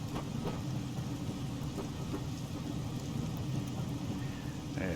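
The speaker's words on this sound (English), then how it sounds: "because of the rain and everything" Steady simulated rain hisses continuously around a Class 419 MLV train near Lewisham station in Train Simulator Classic, on a Rochester to London Cannon Street run, a dense even wash with a faint low rumble beneath.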